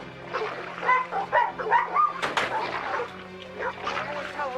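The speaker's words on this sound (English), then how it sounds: "He keeps his dogs back there." Dogs kept behind a house, barking in short repeated yips and bow-wows at moderate distance, mixed with people talking.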